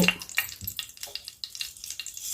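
Chana dal and urad dal crackling in hot oil in a pan for vegetable dal, a close, busy sizzle with sharp little pops, with no talking.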